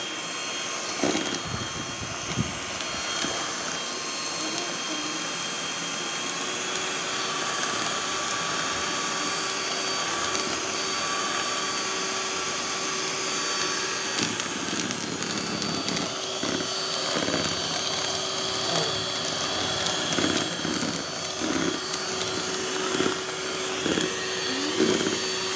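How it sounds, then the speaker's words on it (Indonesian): Electric mixer beating eggs with ice cream, a loud continuous motorized whine and whir held steady throughout, with faint background rattles and no clear talk. "Dimixer dulu telur sama es krimnya ya teman-teman."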